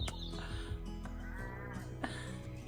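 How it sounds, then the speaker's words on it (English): Sheep bleating near a campervan conversion site, a few wavering calls overlapping one another with some clatter, fairly close and heard without talk. "All the sheep are cheering you on, babe."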